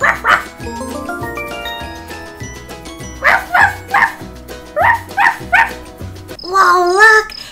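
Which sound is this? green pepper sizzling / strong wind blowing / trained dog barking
trained dog barking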